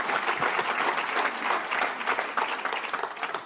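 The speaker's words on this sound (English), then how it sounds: "a round of applause" A ballroom crowd at a Make-A-Wish Hudson Valley charity gala in Sleepy Hollow claps steadily, a dense, lively round of applause heard close and continuous with no speech over it.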